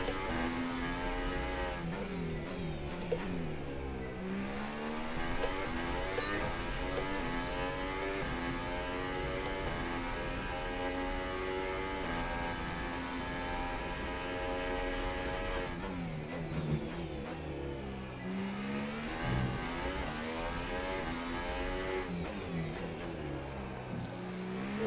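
A Formula One race car engine in the F1 2018 racing game whines steadily and loudly throughout, its pitch rising and falling through repeated gear shifts and revs, with no talking over it.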